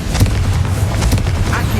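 Confringo spell blast in the Hogwarts Legacy video game: a dense, booming fiery burst with low rumble and crackling bursts throughout, loud and continuous over the short span.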